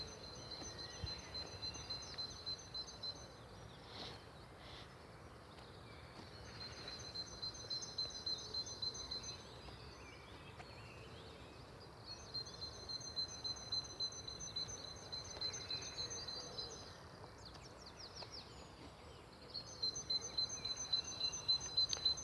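Birds sing in a park in repeated high, trilling phrases that come and go in bursts over a quiet outdoor background, moderately distant and fairly faint.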